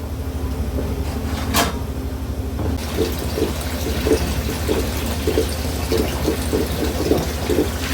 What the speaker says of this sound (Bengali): চালটা ধুয়ে নিচ্ছি।